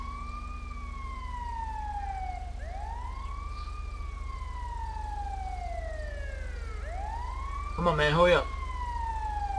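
A wailing ambulance siren in the video game GTA 5 sweeps up and down in repeated cycles over a low engine drone, and someone speaks briefly near the end.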